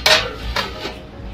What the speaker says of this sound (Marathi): आणि आता आपण याच्यावरती झाकण ठेवूयात